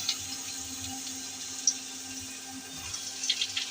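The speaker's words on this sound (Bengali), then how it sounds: "তেল গরম হয়ে গেছে, এখন আমি পেঁয়াজটা ছেড়ে দেব" Sliced onion dropped into hot oil in a pot, frying with a steady soft hiss and crackle, faint and fairly even throughout, with a few sharper pops near the end and no talking.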